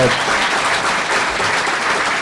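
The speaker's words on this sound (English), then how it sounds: "why don't we give a big round of applause to the panel here" A debate audience applauds the panel after a health insurance exchange discussion, dense even clapping from a room of people, loud and continuous for the whole moment.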